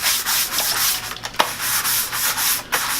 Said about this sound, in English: All you do is scrub it like that.